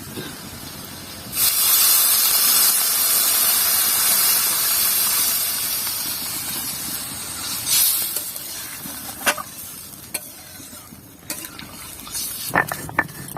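Water poured into a hot pan of fried potato and kohlrabi bursts into a loud hiss and sizzle that fades over several seconds, followed by scattered clinks and scrapes.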